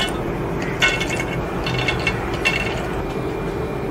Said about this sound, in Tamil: இதை வந்து பாதி பாதியாக மிக்சி ஜாரில் சேர்த்து பொடி பண்ணி எடுத்துகிட்டு வந்துடலாம்.